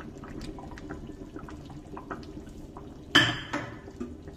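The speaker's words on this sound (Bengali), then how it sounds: "এই যে এবারে চিংড়ি মাছগুলো দিয়ে দিচ্ছি" Fried prawns drop into a pan of homemade pumpkin curry with a sudden close clatter and wet splash, followed by a smaller second knock, breaking a quiet kitchen background.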